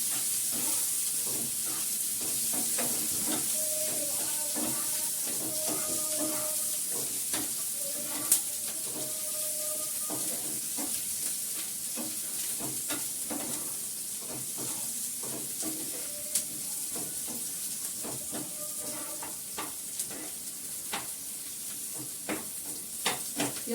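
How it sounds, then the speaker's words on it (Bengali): Onions fry in oil in a pan, a steady soft sizzle and hiss running throughout, with faint stirring clicks and occasional small knocks at low volume. "পেঁয়াজটাকে আমি ভালো করে ঝরঝরে করে ভেজে নেব, লাল করে।"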